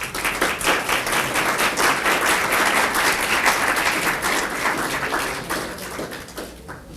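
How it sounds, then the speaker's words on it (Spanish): Strong applause from a senate conference audience greeting an arriving speaker, loud and continuous, with individual claps audible, fading toward the end. "a quien recibimos con un fuerte aplauso"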